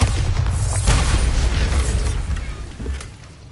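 A Bombarda blasting spell goes off in a mine in a Harry Potter video game, a deep, loud, rumbling explosion that holds for a few seconds, then fades slowly with lingering debris noise.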